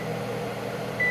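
A steady appliance hum fills the kitchen, then a single short high electronic beep sounds at the end as a kitchen timer is set.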